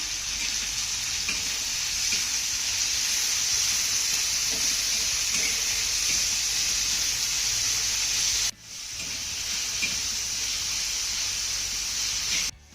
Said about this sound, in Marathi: हा कांदा आणि टोमॅटो आपल्याला चांगला मऊसूर होईपर्यंत परतून घ्यायचा आहे.